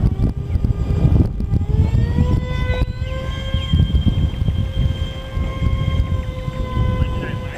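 A Dynam A-10 RC model jet with retractable gear, lowered, comes in to land, its ducted-fan whine holding steady tones that shift slightly in pitch over constant wind and handling noise; a voice is heard briefly.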